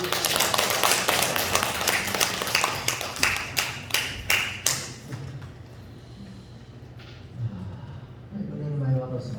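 A church congregation claps during a Korean evening worship service, with dense rhythmic applause for several seconds that thins into scattered claps and fades, and a voice speaks faintly near the end.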